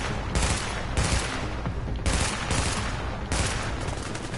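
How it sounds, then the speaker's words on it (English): Dense, loud automatic gunfire in a firefight in the video game The Division 2, sustained bursts with brief gaps between volleys and no talk over it. "Alright, Christ, he's shooting at you."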